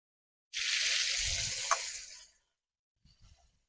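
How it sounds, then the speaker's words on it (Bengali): Salted, squeezed leafy greens drop into hot oil with a sudden loud sizzle that hisses for about two seconds, then fades, followed by faint crackling. "শাকটাকে আমি তেলের মধ্যে দিয়ে দিলাম"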